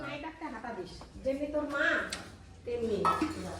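A bowl handled in a home kitchen gives off clinks and clatters of dishes and cutlery, knocking in short bursts while people talk close by.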